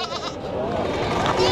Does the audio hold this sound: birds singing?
no